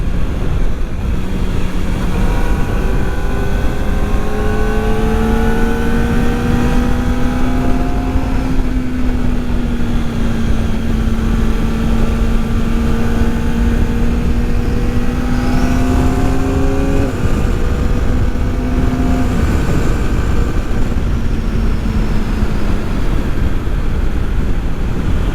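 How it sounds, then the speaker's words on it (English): Kawasaki ZX-4RR sport motorcycle with ram air intake, its engine droning loud and close with rising and falling tones as revs climb and drop through the gears, intake noise and wind buffeting the microphone throughout. "Oh, just to hear that engine purr."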